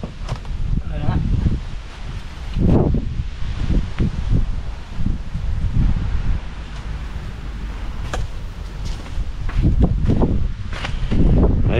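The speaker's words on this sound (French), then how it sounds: "Il y a du vent à cette heure-là." Wind blowing outdoors while a plug-and-play solar panel is set on ballast trays, a steady gusty rumble buffeting the microphone throughout, with muffled voice-like bursts at times.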